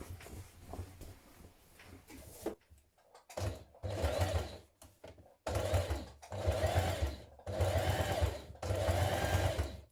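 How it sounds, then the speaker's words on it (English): A domestic sewing machine top stitches along the edge of a trouser seam, running in close, steady bursts with short pauses between runs, loud and alone with no talking. "So we're top stitching it, but we're doing it right on the edge of that seam towards the front of the trousers."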